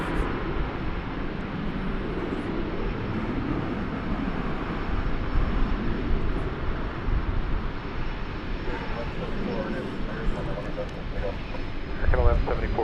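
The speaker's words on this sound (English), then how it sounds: "That's a CRJ 701 ER touching down from Grand Island." A CRJ 701 ER jet touching down at DFW airport, its broad engine roar and rushing noise sustained at moderate distance, with a faint radio-like voice in the background.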